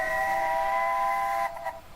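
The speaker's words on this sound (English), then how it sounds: "a teeny tiny steam railway." A tiny steam railway engine at Dungeness sounds its steam whistle, a loud, steady multi-tone blast held for about a second and a half before cutting off, followed by a couple of faint trailing hisses.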